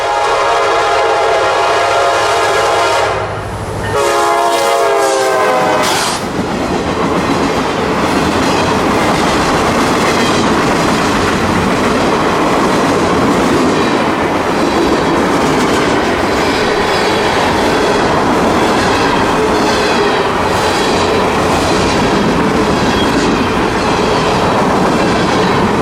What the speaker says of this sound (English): It was Q442, Tampa to Waycross Daily Mixed Freight, and coming on too soon for me to get the tripod again.